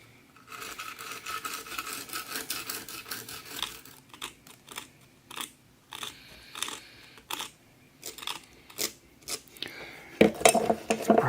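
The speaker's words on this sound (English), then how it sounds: "I'm going to come in with a knife and try and shape this block a bit" A knife carves and scrapes a freshly made, still-soft block for a Ta Prohm temple model, giving a run of close, dry scratching strokes that turns into separate brief scrapes and ends in a brisker rub.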